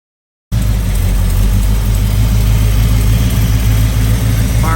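Porsche 928 fitted with an old Chevy 350 small-block V8 catches after a brief silence and settles into a steady, loud, rumbling idle close by, with no voices over it.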